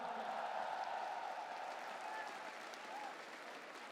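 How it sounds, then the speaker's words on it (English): Sustained applause from a crowd at a Dota 2 esports tournament, ESL One Manila 2016, steady and fairly distant, slowly fading slightly over a few seconds. "Give a round of applause to Slacks, ladies and gentlemen."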